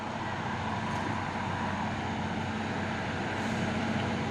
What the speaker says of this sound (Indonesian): Masuk lagi truk Fuso ini melewati tanjakan Bukit Kodok di pagi hari